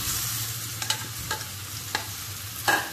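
Potatoes for sago chaat are mixed in a pan, with a low steady sizzle and a few soft spoon scrapes and taps spaced across the moment, close and fairly quiet with no voices.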